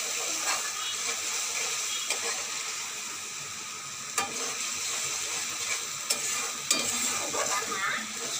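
Soybean masala with ginger, cumin and ground spices stir-fries in a pan with a continuous close sizzle, broken by occasional sharp scrapes and clinks of a spatula.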